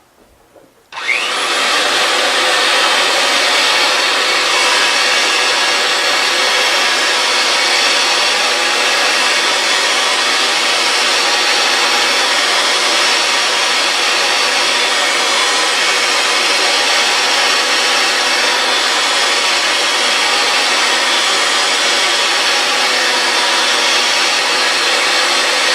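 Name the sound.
compact 115V pipe threading machine cutting through pipe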